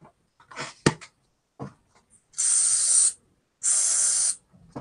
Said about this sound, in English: Now these should actually come off okay in the water, but they come off better with the spray.